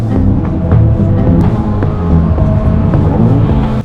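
Hyundai Excel race car engine at an endurance race at Queensland Raceway, loud and steady with uneven revving as the driver struggles to find third gear, close and continuous with no voices.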